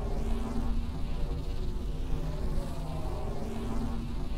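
Giant bugs in the flying-airship survival game Forever Skies fill the air with a continuous, droning insect buzz whose pitch wavers as they hover close by, steady and fairly loud with no speech.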